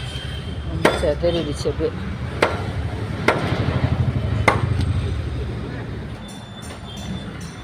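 Palmyra palm leaves being cut for kozhukattai, with a series of sharp, close chopping strikes at irregular intervals over a steady rustle, while a person talks throughout.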